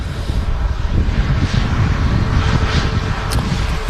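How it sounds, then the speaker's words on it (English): A Ryanair Boeing 737-8200 airliner from Alicante rumbles loudly at Manchester Airport, a dense low roar with wind-like texture that holds steady throughout. "This Ryanair 737-8200 is from Alicante."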